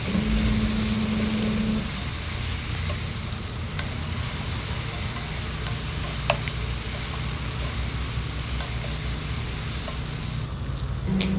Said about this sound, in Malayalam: ഒരു പാനിലോട്ട് നമ്മൾ കുറച്ച് ബട്ടർ ഇട്ട് ഉള്ളിയെല്ലാം അതിലോട്ടിട്ട് നല്ലോണം വഴറ്റിയെടുക്കാം